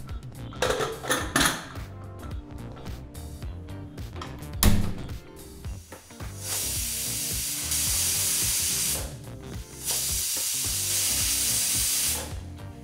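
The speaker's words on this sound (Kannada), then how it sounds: "ಈಗ ಇಲ್ಲಿ ಕುಕ್ಕರ್ 2 ವಿಸಲ್ ಬಂದಾಯಿತು," Pressure cooker on a home kitchen stove letting off two long, loud hissing steam whistles, one after the other, following a few seconds of clattering pots and utensils.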